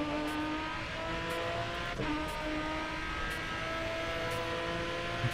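A GT4 race car engine in GRID Autosport drones at steady high revs throughout, a continuous close mechanical roar with faint periodic ticks and no talking.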